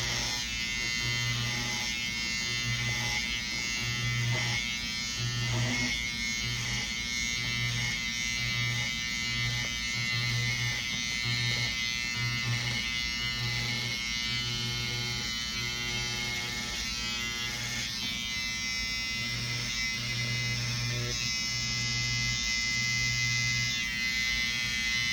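Electric hair clippers buzz continuously and close while tapering a short haircut around the ears and neck, with a steady drone broken by rhythmic pulsing as the blades move.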